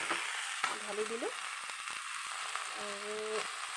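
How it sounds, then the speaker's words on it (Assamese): Food fries in a pan with a continuous soft sizzle, joined by scattered stirring clicks and brief murmuring voices. "ঢালি দিম ধুনীয়াকৈ আৰু ভাজি দিম এতিয়া ধুনীয়াকৈ হয়তো ভাজি ল'ম।"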